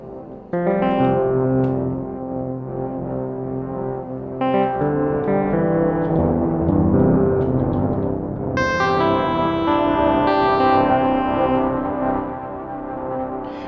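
Elektron Digitone synth played through a Pladask Elektrisk Draume V2 effects pedal, with sustained harmonic chords and shifting notes that stay steady and loud, carrying echoing, chorus-like textures and mild distortion throughout.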